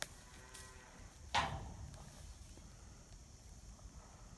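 A cow in a corral lets out one loud, close moo partway through, with faint wind and low background noise before and after.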